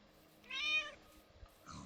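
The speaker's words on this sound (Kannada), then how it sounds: "ಇಲ್ಲಿ ಇನ್ನೊಂದು ಕೊತ್ತಿ, ಬ್ಲ್ಯಾಕ್ ಕೊತ್ತಿ." A black cat in the Minecraft video game gives a single short meow, faint and close, followed by a soft low thump, with otherwise quiet background.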